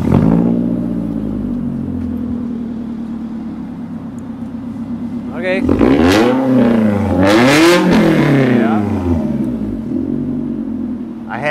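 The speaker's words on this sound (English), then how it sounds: "we have to fire the car up" A performance car engine cranks, catches and idles roughly, then is revved hard twice with rising and falling roars before it settles back to a loud idle. A voice briefly speaks over it.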